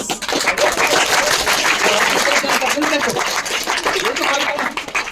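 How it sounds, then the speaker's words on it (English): School audience gives a big round of applause for class 6 quiz champions, a loud dense rattle of many hands filling the space, with voices and cheering mixed underneath throughout. "A huge round of applause for our champions, class 6th."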